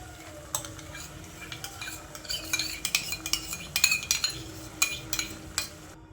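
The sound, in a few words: stirring carrot halwa after adding milk and cream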